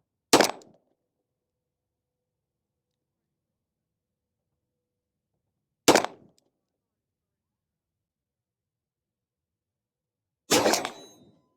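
Three sharp, loud Beretta 92D pistol shots fired at a 35-yard target on an outdoor range, each a single crack with a short tail, spaced several seconds apart with silence between.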